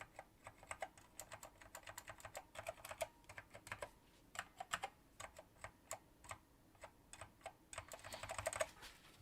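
Rapid clacking keystrokes on a mechanical keyboard fitted with Alps switches, typed in uneven bursts close by with no speech.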